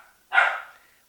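A teething puppy lets out a single sharp, close bark indoors in a kitchen, with near silence before and after it.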